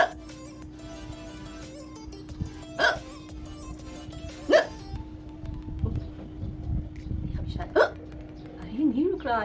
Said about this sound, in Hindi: ये हिचकी तो यार आज बंद ही नहीं होगा।